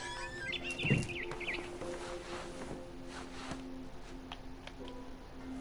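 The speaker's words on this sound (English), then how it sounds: "Then I heard chirping outside my window. It was a barn swallow going back to her nest." Faint barn swallow chirps and tweets in the video game What Remains of Edith Finch, against a quiet outdoor background, a few short calls early then sparse.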